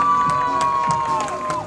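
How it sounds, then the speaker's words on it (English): A stadium crowd cheers and murmurs after an attempt in the women's T47 long jump final at the 2015 IPC Athletics World Championships in Doha, a short, broad roar with a thin tonal whistle running through it. "The crowd seems happy with that one."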